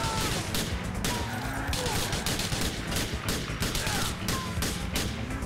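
Pistol gunfire from the Grand Theft Auto IV video game sounds as repeated shots within a dense, continuous firefight that stays loud throughout.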